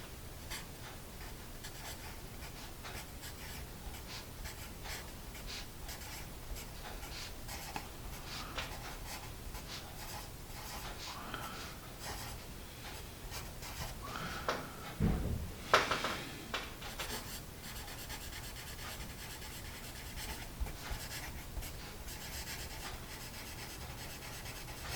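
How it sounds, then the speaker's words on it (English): An Apsara Extra Dark pencil scratches and rubs across paper in steady handwriting strokes, soft and close, with a brief louder scrape partway through. "they call out on the pencil itself and on the box that this pencil is intended for good handwriting"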